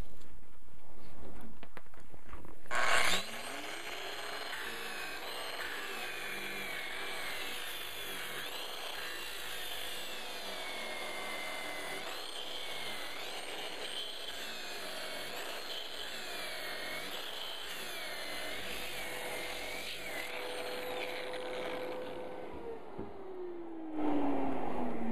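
A Festool sander grinding steadily across a piece of wood, a continuous close whirring rasp that starts abruptly, holds for about twenty seconds and then winds down, with no speech over it.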